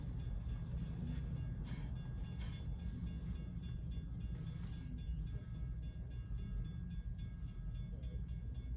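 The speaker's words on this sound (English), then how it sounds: "And train 2065 now making its arrival here." A Long Island Rail Road electric multiple-unit train rumbles into a Main Line station, a steady low roar of motors and wheels with faint squeals and clicks, heard from a distance at modest volume.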